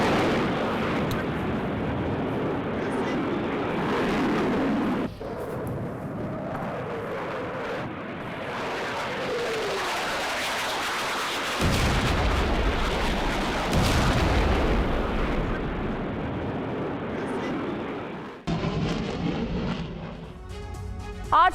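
Heavy booms and rumbling blasts from a Russian Sukhoi Su-25 attack jet bombing Ukrainian positions, with repeated loud detonations and sustained roaring noise through the stretch and a sharp crack near the end.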